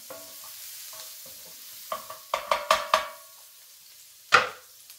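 Shallots sizzle and fry in butter in a pan, with a handful of sharp stirring scrapes and crackles in a quick cluster, then a single louder scrape after a short pause, close and clear with no talk.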